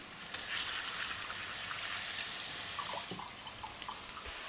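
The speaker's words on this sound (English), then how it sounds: "Just wash my hands off." Running tap water splashes steadily over hands at a kitchen sink while cooking lasagne, a close, continuous hiss and patter with a few brief drips and rubbing sounds near the end.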